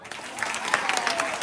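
Loud, steady applause from a crowd of children and staff at a school retirement farewell function, sustained clapping filling the room with a faint voice underneath.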